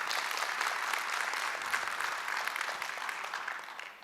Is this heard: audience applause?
yes